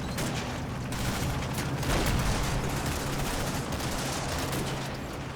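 Infantry squads in Combat Mission Battle for Normandy trade a steady fusillade of rifle and machine-gun fire, with overlapping cracks and rattles from mid-distance that stay constant throughout.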